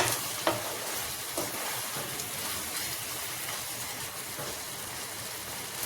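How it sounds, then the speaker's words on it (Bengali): Chopped boiled eggs stirred and cooked in a thick chilli gravy, a steady close sizzle and bubbling with occasional soft scrapes of a spoon in the pan, no talking. "এর সাথে টুকরো করা ডিমগুলোকে মিশিয়ে দিয়ে আবারও একবার নেড়ে চেড়ে 2 মিনিট রান্না করে নেব।"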